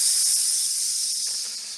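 A voice imitates the steam hiss of a fire-hot axe pressed onto skin: a steady, breathy psss that lasts under two seconds and fades slightly at the end.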